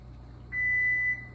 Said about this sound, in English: that's my buzzer. My cookies are finished.